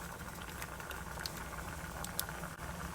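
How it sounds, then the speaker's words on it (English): Egg noodles boil in a pot, a steady close bubbling and simmering with faint pops and crackles, unbroken and without voices. "My noodles are cooking."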